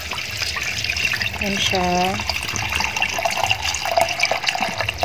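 Water running from a tap into a pot of lemongrass, a steady close rushing stream with a short rising gurgle as the vessel fills, while someone speaks briefly over it.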